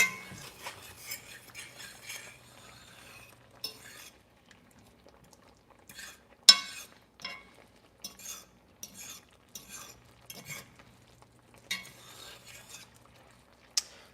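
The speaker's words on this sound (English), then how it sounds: "Maybe go ahead and stir it up." Chicken Marsala being stirred in a pan: quiet scraping and clinks of a utensil against the pan in short bursts, with a low sizzle underneath, mostly alone with brief sounds of movement.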